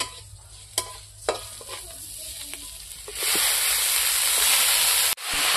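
Boiled, drained banana flower tossed into a hot pan, a few sharp clinks and scrapes giving way to a sudden loud sizzle that keeps hissing steadily, briefly cut off near the end, close by with no talking.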